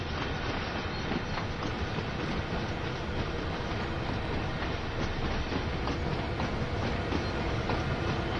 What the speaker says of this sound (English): we can see the train again